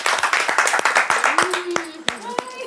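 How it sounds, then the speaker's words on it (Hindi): A small group claps for Ruby during a tongue-twister game, with distinct, fairly rhythmic hand claps close by while a voice carries on and the claps thin out toward the end. "उनके लिए एक बार तालियां बजाई जाए"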